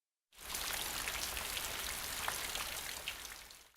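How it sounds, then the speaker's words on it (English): Steady rain patters densely on a surface, starting abruptly and holding an even hiss with scattered individual drops throughout. "Rain,"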